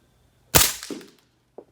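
A machine gun fires a single loud shot at Lake Martin, a sharp close crack with a brief rumbling tail, followed by a small faint knock a second later.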